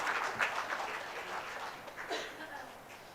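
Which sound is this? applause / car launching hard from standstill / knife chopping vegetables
applause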